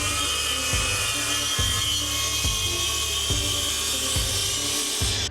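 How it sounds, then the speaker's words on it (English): A track saw cuts through a campervan top panel, its loud whining motor running continuously up close. Regular low thumps punctuate the whine about every 0.8 seconds. "for the larger lines I'm going to be using the track saw to cut this out"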